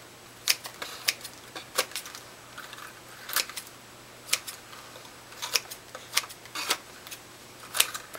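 Scissors snip through tissue paper in sharp, crisp cuts, about a dozen brief clicks spaced irregularly and close by, with a faint steady hum underneath and no talking.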